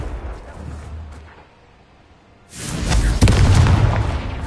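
A Confringo fire spell explodes in the Hogwarts Legacy video game, a loud booming burst that erupts suddenly midway and rumbles on, after quieter game noise.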